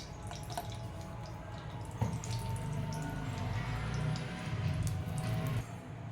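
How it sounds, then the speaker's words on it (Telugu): Ghee poured into a hot pan while cooking a traditional ragi and milk sweet, giving a steady, soft wet trickle and drip over a low background hum, with no talking. "ఇప్పుడు కొంచెం మళ్ళీ నెయ్యి వేస్తున్నానండి."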